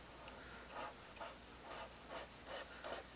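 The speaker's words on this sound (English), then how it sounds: "I want to trim the bottom of this so it's flat first." Edge of a craft foam belt for a Super Buu costume being trimmed flat, giving about six soft, rhythmic rasping strokes that are faint and close, with no talking.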